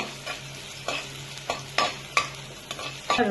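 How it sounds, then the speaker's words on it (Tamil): Garlic sizzles steadily in hot oil while a utensil scrapes and stirs the pan in a few sharp, irregular strokes. "பூண்டை சேர்த்து வதக்குங்க."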